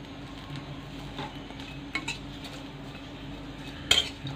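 Fried potatoes being lifted out of a pan, with soft utensil scrapes and a few clinks of metal against the pan, ending in a sharper clank.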